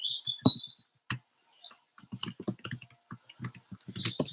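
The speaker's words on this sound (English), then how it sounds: "Let me just type something in here." Keys tapped on a laptop keyboard in short irregular bursts of clicks, close and fairly quiet, with a few pauses between runs and a faint steady tone in the background.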